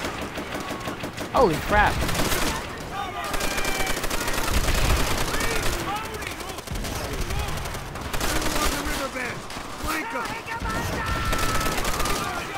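Rapid automatic gunfire in the PC game Call of Duty: World at War, loud bursts of rattling shots with brief pauses, while a player talks over the action.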